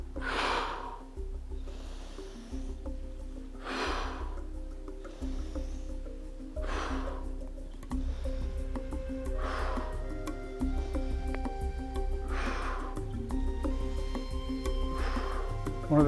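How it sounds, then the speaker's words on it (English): Deep breaths during an arthritis fitness exercise, with audible exhales and inhales repeating roughly every one to two seconds, close and steady over a low background hum, with no talking. "Always exhale on the exertion and inhale on the release."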